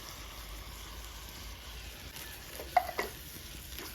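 Ground masala sautés in oil with softened onion and tomato for a village-style fish curry, a faint soft sizzle with a few light stirring scrapes near the end.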